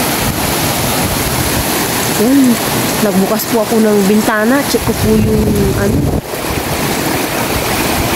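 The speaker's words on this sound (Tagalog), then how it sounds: "Yung maririnig nyo, ulan hangin." Heavy rain and strong, roaring wind pour in through an open window at night during a typhoon-like storm, a constant loud wash, while someone speaks over it.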